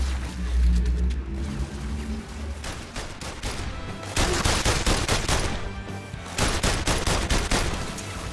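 Rapid bursts of gunfire from the VR game The London Heist on PlayStation VR Worlds, dense and loud, coming in repeated volleys with a brief lull between them and no voice over the shots.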